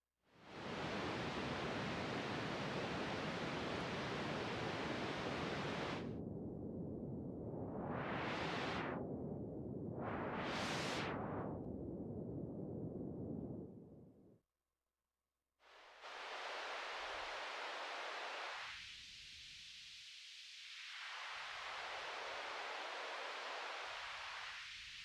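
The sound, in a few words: pink noise test signal through an active audio crossover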